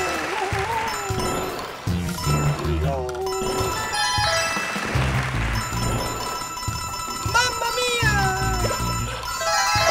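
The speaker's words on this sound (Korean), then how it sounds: "얘네들 뭐 고양이들이야?" Cartoonish cat meows from the Super Mario 3D World video game, mixed with bright musical game sounds and chimes, while a person talks over them.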